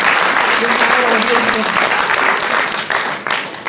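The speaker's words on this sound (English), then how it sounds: "That deserves a round of applause" Loud, sustained applause from an audience at a panel discussion fills the space, with a voice heard under the clapping as it tapers off near the end.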